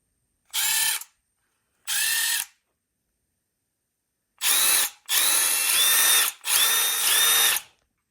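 A Milwaukee M12 hex driver whirs in short, loud, close bursts: two quick pulses, then a pause, then three longer runs, each one starting and stopping abruptly.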